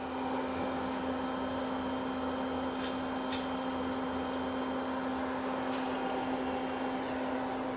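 A Citizen M20V CNC Swiss lathe spindle runs steadily at 5,000 RPM, giving a constant tonal hum over broadband machine whir with a couple of faint ticks, close and with no talking.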